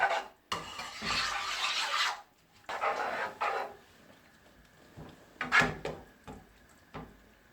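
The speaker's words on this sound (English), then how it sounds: "This might take you just a little while to mix it all in" Red onion gravy being stirred in a pan: scraping, rasping strokes come in uneven bursts with pauses between, close and fairly quiet, ending in a few light knocks.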